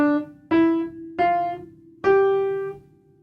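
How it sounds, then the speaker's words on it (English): Four detached piano notes struck one at a time in a beginner lesson, each with a clear attack and a short ring before the next, played alone with no talking. "The opposite is to play detached"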